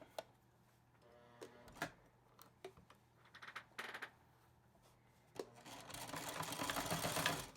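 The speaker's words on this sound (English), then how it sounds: "I keep going, and I'm doing that zigzag stitch down the line" A sewing machine runs a zigzag stitch along a cloth mask in short bursts of quiet mechanical whirring and clicking, then a longer steady run at the end, with soft handling noises between.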